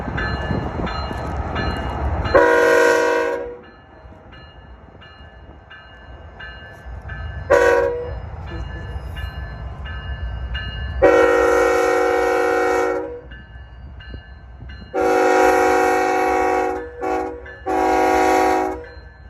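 BNSF ES44C4 diesel locomotive leading a freight train past, blowing a loud chord horn in a pattern of two long blasts, a short one, then two more long blasts, over a low engine rumble.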